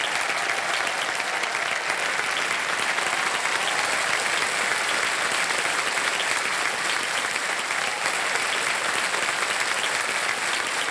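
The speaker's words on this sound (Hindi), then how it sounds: "तालियां बजाने के लिए" A studio audience on a TV quiz show bursts into loud, dense applause after a correct answer, sustained at an even level for about eleven seconds with no talk over it.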